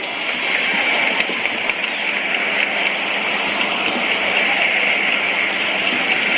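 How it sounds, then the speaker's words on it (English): Audience at an MLK memorial event in Boston's Public Garden applauds Tom Atkins outdoors: dense, steady clapping that runs evenly throughout like a rush of rain, moderately loud and unbroken. "Let's give a big round of applause for Mr. Tom Atkins, ladies and gentlemen."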